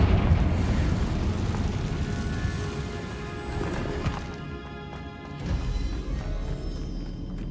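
A Confringo blasting curse goes off in Hogwarts Legacy, a loud rumbling explosion with crashing debris that rolls on and slowly fades under game music.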